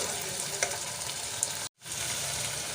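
Sliced onions fry in a hot pan with a steady, close sizzle and crackle, broken by a brief moment of silence partway through before the hiss resumes.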